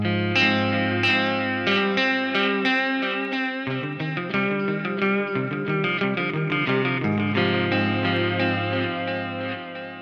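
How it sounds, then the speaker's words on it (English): A clean-toned electric guitar runs through a Seymour Duncan Dark Sun pedal set to a quarter-note digital delay with hall reverb, so plucked notes repeat in steady echoes that blend into a continuous, shimmering wash. "So let's start with a good old quarter note delay."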